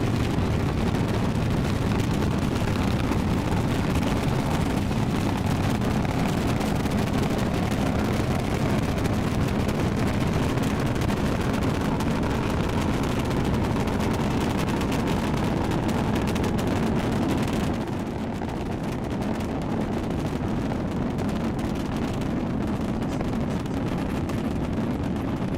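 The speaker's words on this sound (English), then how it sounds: "if you can hear me over the rumble, with 3 engines lit on booster 20" SpaceX Starship Flight 13 launch with booster 20, a deep, continuous roaring rumble that stays loud and steady throughout, softening slightly near the end, with wind buffeting on the microphone.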